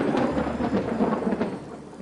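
Rain patters steadily while low thunder rumbles in repeated rolling swells underneath, a continuous stormy wash with no voices.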